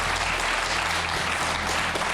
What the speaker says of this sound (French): je demande au public de bien vouloir applaudir ce couple qui traverse une période très difficile